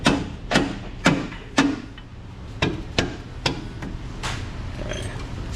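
A hand hammer taps an engine cross member into place on a Silverado 6.2, about ten sharp metallic strikes that start loud and grow lighter, close by with a slightly ringing tone.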